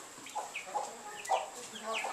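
A few chickens in a farm barn give soft, scattered clucks and short calls, close by and fairly quiet over a low steady hum.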